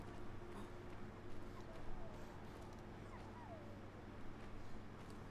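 A dog whimpering and crying in the horror video game Maid of Sker, faint thin whines rising and falling over a low, steady ambient hum, somewhat distant.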